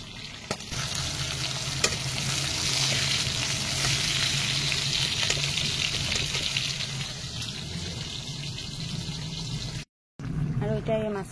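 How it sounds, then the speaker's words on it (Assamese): Fish fries in hot oil in a home kitchen, a loud, continuous crackling sizzle that runs for about ten seconds, cuts out briefly, then resumes. "এইফালে মাছ ফ্ৰাই কৰি লৈছোঁ, এতিয়া মাছখিনি তাত দি দিম।"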